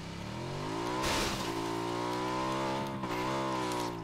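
A motorbike engine revving in a video game, a loud, close, sustained drone that climbs in pitch with a short burst of noise partway through and continues steadily to the end.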